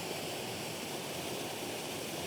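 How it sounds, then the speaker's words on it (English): A small waterfall in the Wood of Cree, framed by trees, gives a steady, dense, close-up rush of falling water with no voices. "Yet another beautiful little waterfall, but a waterfall which is framed by these incredible trees again."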